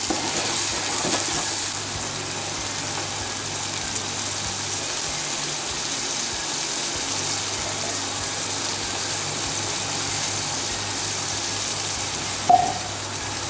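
Ground masala of coriander and chili paste fries in a pan for a pomfret curry, a steady bright sizzling hiss over a low background hum, continuous throughout with a brief clink near the end.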